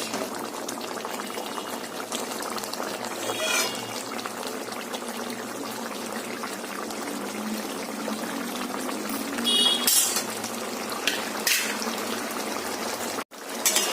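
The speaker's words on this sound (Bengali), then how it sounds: "এই যে ভালো করে ফুটে গেছে মাছ দিয়ে" Katla fish curry with potato and pointed gourd bubbles at a steady simmer in a pot, a continuous soft boiling hiss with occasional brief clinks near the end.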